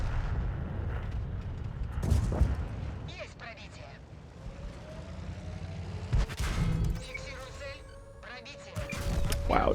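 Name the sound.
tank hit by shell from StuG, World of Tanks video game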